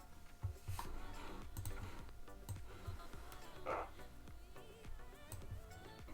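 A computer keyboard clicks as keys are pressed while setting up text for a Cricut print-then-cut card project, with scattered light taps and a few sharper clicks over a steady background hum and music.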